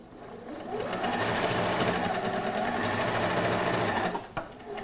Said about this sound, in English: So I'm going to stitch all the way around. I've taken off the flatbed from the machine so that I can sort of stitch in the round